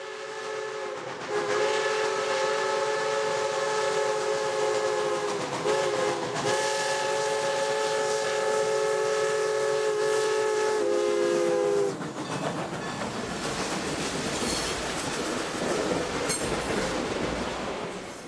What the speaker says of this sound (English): TSR 300 West crosses County Road 2124 heading for Palestine.